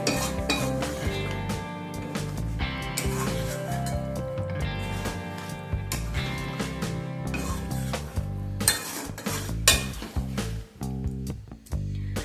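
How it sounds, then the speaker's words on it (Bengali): Spinach paste and chicken fry in a pan while a utensil scrapes and stirs steadily, with dense clinking and rubbing over a constant sizzle, close and fairly loud throughout. "আবারও এটাকে খুব ভালোভাবে কষিয়ে নেব যাতে পালং শাকের কাঁচা ভাবটা পুরোপুরি চলে যায়।"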